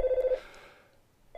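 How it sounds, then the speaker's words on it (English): A telephone rings inside the video game Earthbound, two short loud ring bursts at the start and end with a quiet gap between them, heard alone with no talk. "And I'm interrupted by the phone, but it's in the game now."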